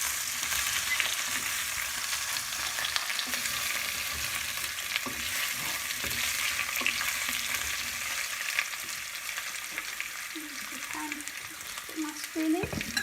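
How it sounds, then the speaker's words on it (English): Potato curry frying in a pan while being stirred, a dense continuous sizzle with scraping stir strokes throughout and a few clinks toward the end, no talking. "I'm going to stir it like this."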